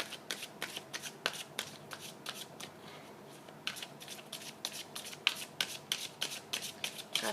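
Tarot cards being shuffled by hand to draw a guide card, a close, quiet run of crisp riffling bursts repeating in a steady rhythm with a short lull midway.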